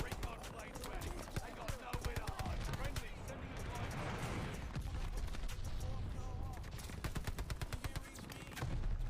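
Decoy grenade in Call of Duty: Vanguard hardcore mode spitting imitation gunfire, sharp shots and rapid bursts rattling in uneven clusters throughout, fairly loud with a noisy wash of battle behind.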